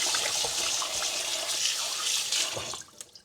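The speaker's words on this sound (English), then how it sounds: "I'm just going to wash off this chicken back" Raw chicken back rinsed under a running kitchen tap, a steady close rush of water with splashing as the meat is moved about, easing off at the end.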